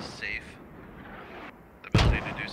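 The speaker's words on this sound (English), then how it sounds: "Here comes the mortars." Mortar rounds landing in the military shooter Squad, a sharp heavy blast near the end rising over quieter background noise and brief radio-like tones.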